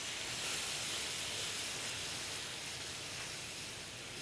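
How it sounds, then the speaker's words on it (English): Caramel hisses steadily as orange juice is poured in to deglaze it for crepe Suzette, a broad, even steam hiss that holds for the whole stretch at close range with no voices over it. "So get ready your orange and deglaze."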